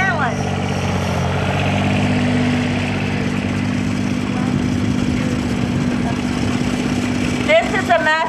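An antique John Deere 430 tractor in a parade putters at a steady low idle, close and continuous, while an announcer talks over it.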